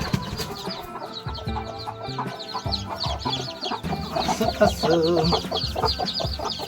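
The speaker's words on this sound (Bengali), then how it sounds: "দেখো এই মুরগিগুলো আমাকে কামড়ায় না, আমাকে ভয় পায়" A flock of hens with young chicks clucks and peeps steadily nearby, a busy layered chatter, while a person talks over the birds.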